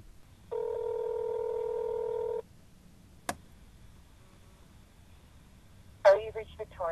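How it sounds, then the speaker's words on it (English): A telephone call being placed as a prank: a steady tone sounds for about two seconds, then a sharp click, followed later by a burst of brief tonal beeps, all quiet and close. "I thought it would be funny if we called Victoria and I pretended I was a Chinese food restaur"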